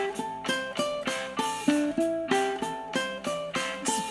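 A ukulele riff plays over a backing track in a steady rhythmic pattern of plucked notes, with regular strummed beats about twice a second, clear and close, no talking.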